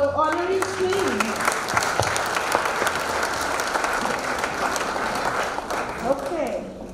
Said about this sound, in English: Let us give a great round of applause to all our honorees, please.